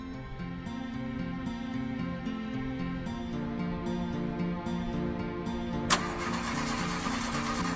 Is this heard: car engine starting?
yes